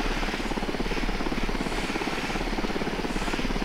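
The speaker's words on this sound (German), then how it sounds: "Dieser Heli nervt total." Helicopter in the video game Ghost Recon Wildlands, a steady rotor thump with a close, continuous engine drone at even loudness throughout, with no speech.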